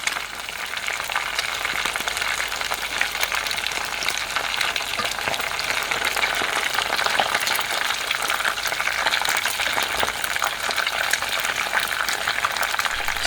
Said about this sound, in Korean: 튀기는 소리를 ASMR로 준비해봤습니다.